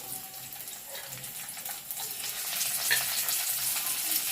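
Sliced onion added to baby corn frying in a pan, a soft continuous sizzle that swells a little louder as the onion goes in, with faint clinks and stirring.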